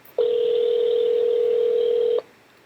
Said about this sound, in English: Now I'm dialing the other party.